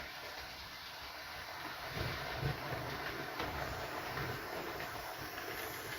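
A model railway locomotive hauling coaches runs steadily along the track, giving a continuous, fairly loud hiss and rumble that swells slightly midway, with no talking.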